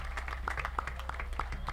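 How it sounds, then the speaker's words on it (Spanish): An audience at a concert celebrating General Enrique Godoy's 100 years gives faint, scattered applause, with light irregular claps heard from a distance. "fuertes aplausos"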